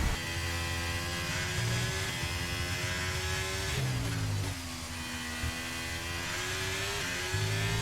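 Formula 1 race car engine in the F1 23 video game at the rainy United States Grand Prix in Texas, a loud sustained high-pitched whine that climbs and drops through gear shifts, heard alone.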